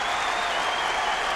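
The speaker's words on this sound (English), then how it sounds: "Hear the crowd get excited. That's the Iowa fans." At a Big Ten college wrestling championship, Iowa fans in the arena clap and cheer in a dense, steady roar for the whole short stretch.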